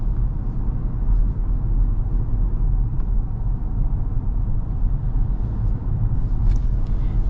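A 2025 Ford Ranger pickup with its 2.3-liter engine cruising on the road, a steady low rumble of engine and road noise that holds even and continuous throughout, heard from inside the cab.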